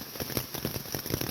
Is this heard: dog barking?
no